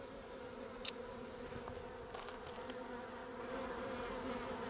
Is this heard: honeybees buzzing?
yes